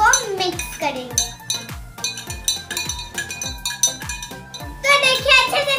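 Spoon clinking against a glass while stirring lemon juice into water, a quick run of bright metallic taps in an uneven rhythm, close and fairly loud, with a voice faintly in the background.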